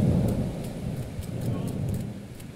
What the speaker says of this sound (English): That's rain coming. Here comes the rain.